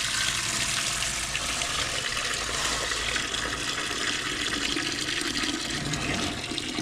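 Water pours steadily out of a Farmall B tractor being restored, a continuous loud rushing and splashing gush that holds at an even level throughout.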